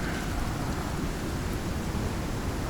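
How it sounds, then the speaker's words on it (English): Steady heavy rain with a low rumble of thunder pours in the survival video game Icarus, a dense, constant wash of noise with no voices. "The rain just completely filled that up for us."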